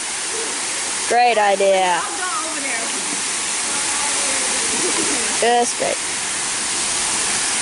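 Continuous rushing roar of a waterfall in Costa Rica fills the scene, with two brief spoken remarks over it.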